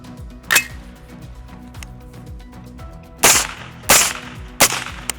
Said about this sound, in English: Semi-automatic rifle, unsuppressed. Same rifle suppressed.